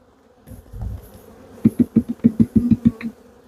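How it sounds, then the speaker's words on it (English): Honey bees knocked off a queen excluder into a box during a hive inspection of a massive colony: a soft thump, then a quick series of about nine sharp taps, each followed by a rising buzz of disturbed bees, close and clear. "So what I'm going to do is I'm going to tap all the bees that are on this queen excluder into this box."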